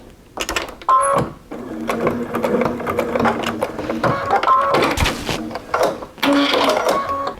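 A sewing machine stitches across the end of a binding strip on an oven mitt made from a towel. It runs in several rapid whirring bursts with short pauses between them, close and loud, with no talking.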